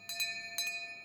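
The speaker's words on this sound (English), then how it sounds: "these bells" Metallic bells ringing in a video game, two pairs of bright clanging strikes with sustained ringing tones between them, moderately quiet and with no voices.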